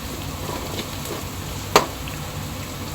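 Ginger and garlic splutter in hot oil for chicken biryani, giving a steady close frying hiss with one sharp pop partway through, and no talking.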